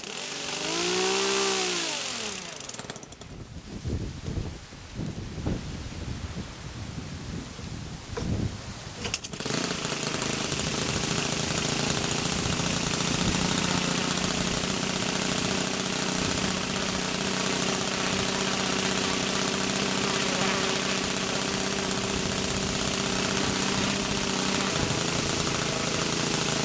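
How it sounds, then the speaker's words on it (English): A Saito 1.00 GK model airplane engine running rich during break-in at 3600 RPM, first a rising buzz that cuts out, then a steady loud droning run for the rest, with no talk. "Okay, it's running at 3600 RPM right now."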